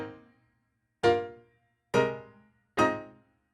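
Three short, dry notes from a Dexibell digital piano with reverb switched off, struck staccato at roughly one-second intervals, each cut off quickly with no lingering reverb tail.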